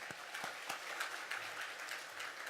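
A church congregation at a Korean Full Gospel Sunday service claps together in soft, steady applause that sounds somewhat distant and quiet.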